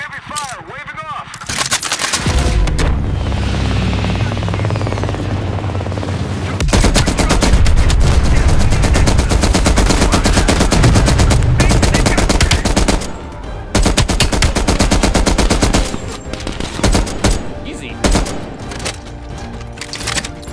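Heavy sustained machine-gun fire rattles in Call of Duty: Black Ops Cold War, loud and continuous with dense bursts and booms. Aircraft or rotor noise runs underneath, and there are brief pauses.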